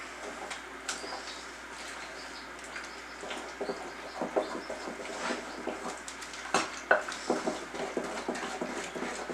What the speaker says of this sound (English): you're going to take your waffle mix and add your egg to it. Mix it up.